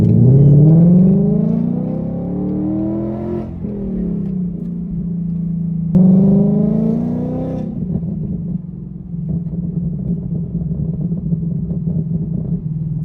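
A Ford Mustang GT on an E85 tune revs up through gears, then downshifts into second, the engine note rising and falling with close, loud exhaust and a crackling burble on overrun toward the end.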